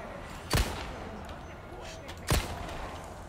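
Two loud, sharp gunshots from Resident Evil 4 Remake, fired in a dark cave at an enemy carrying a bomb, spaced nearly two seconds apart over a low game background hum.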